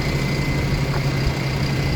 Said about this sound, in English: Sorry about the noise of the buses.